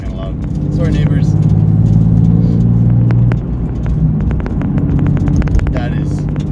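A Nissan 370Z with a newly installed RJM clutch gives a loud, steady engine drone that swells, dips sharply, then settles back to a lower rumble as it downshifts. A person talks over it throughout.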